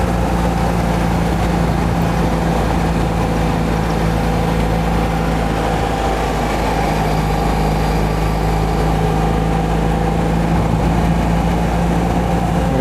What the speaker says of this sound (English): I can feel the heat sink through the floor again. That's a hard working little engine.